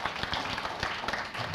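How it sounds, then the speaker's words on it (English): Audience applause at the opening of the 3rd International Quality Education Conference: a dense, steady wash of many hands clapping, fairly close and loud throughout. "A bigger round of applause, ladies and gentlemen."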